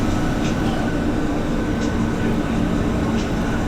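MRT train running in Manila, heard from inside the carriage: a steady, loud rumble and rolling hum that continues without a break, with faint voices low in the mix.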